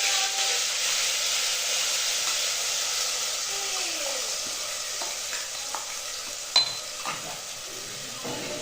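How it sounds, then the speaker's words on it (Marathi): Oil tempering for pressure-cooked vajdi (tripe) in a pot gives a broad, steady hissing sizzle close by, fading slightly, with a few sharp utensil clinks near the end. "त्या वजनी वजडीला फोडणी द्यायला"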